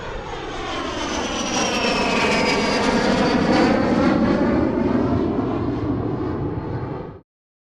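A jet aircraft roars past, a loud broadband rushing engine noise that swells, holds near and strong for several seconds, then cuts off suddenly.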